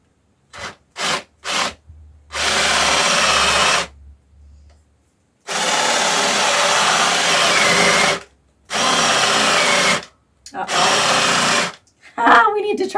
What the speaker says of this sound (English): We need to charge the drill.